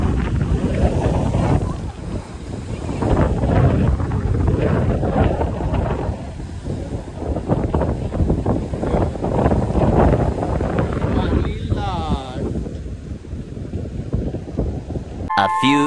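Strong coastal wind buffets the microphone in continuous roaring gusts on a Konkan village road leading to a jetty, loud and steady throughout with a brief fade near the end.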